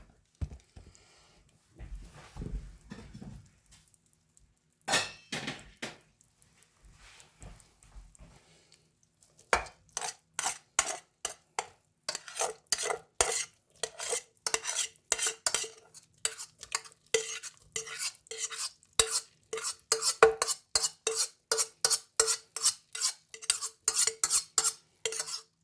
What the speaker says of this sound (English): I'm just gonna throw that rice in there real quick.